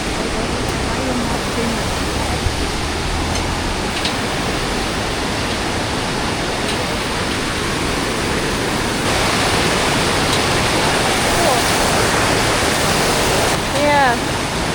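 Mountain creek water rushing steadily near a riverside restaurant in the hills around Chiang Mai, a loud continuous broadband roar that never breaks, with faint voices occasionally under it.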